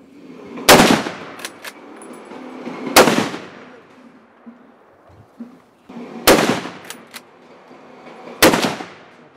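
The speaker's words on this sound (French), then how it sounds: "clôture les tirs au sanglier courant" Rifle shots fired at a running boar target on a shooting range in Gironde: four loud, sharp reports in two pairs, each shot cracking close with a ringing tail, quiet gaps between the pairs.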